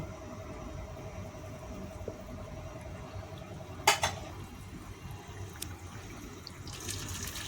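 Water runs steadily into a pot of cooked chicken for majboos rice, with a soft splashing rush, accompanied by a clink of metal cookware partway through.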